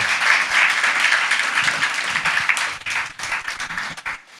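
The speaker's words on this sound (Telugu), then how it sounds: "గట్టిగా చప్పట్లు కొడుతూ దేవుని మహిమపరుస్తాం సంఘం." Loud applause from a church congregation clapping together during a sermon, a dense steady clatter of many hands that thins slightly toward the end, with no talk over it.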